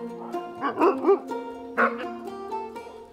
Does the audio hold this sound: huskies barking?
yes